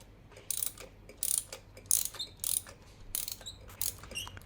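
A ratchet wrench turning anticlockwise to unscrew a spark plug on a 2012 Honda Accord Euro, giving repeated short bursts of close clicking at an irregular rhythm with quiet gaps between strokes.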